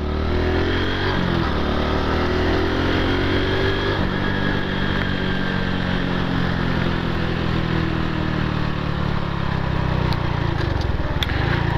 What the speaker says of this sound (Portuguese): eu dou uma aliviada no passar a lombada.